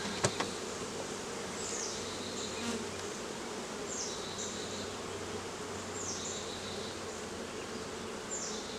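Honey bees buzz continuously inside and around an open hive box while super frames are being drawn, a steady close swarm hum with a few higher insect whines passing by, no voices.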